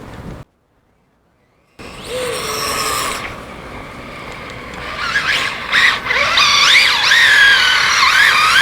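Rlaarlo AK 917 RC car on foam tires running at full throttle on a 4S speed run, a rising, wavering high-pitched whine that climbs and squeals over rumbling wind noise, loud and close after a brief silent gap.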